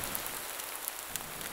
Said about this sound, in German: Gut, es regnet.